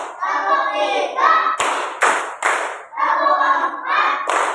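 A class of children plays a counted rhythmic clapping game: sung, chanted counting alternates with groups of sharp, loud, unison claps.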